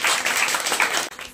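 Audience applause at a school Teachers' Day celebration, a short dense patter of many hands clapping that dips briefly near the end.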